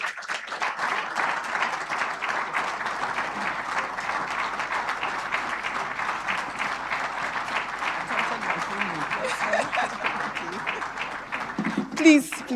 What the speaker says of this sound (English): Keep clapping, please. Keep clapping.